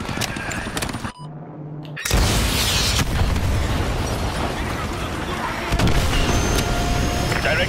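Heavy booming blast from an AGM missile strike on an enemy helicopter in Call of Duty Modern Warfare 2, with a sudden cut to near silence followed by a loud, sustained rumbling explosion and battle noise, with voices underneath.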